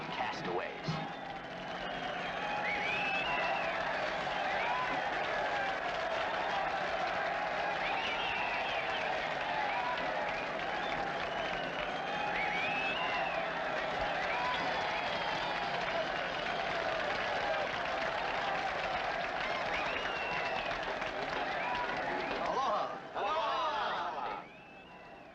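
A large crowd in Hawaii claps and cheers to welcome long-lost castaways home, a dense, continuous wash of applause that stays loud for about twenty seconds before thinning out near the end.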